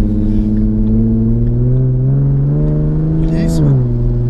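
A Ford Mustang engine revs steadily and loudly, its pitch climbing slightly before dropping back near the end, close and continuous throughout.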